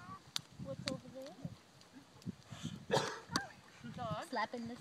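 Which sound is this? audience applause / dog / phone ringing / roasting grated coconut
dog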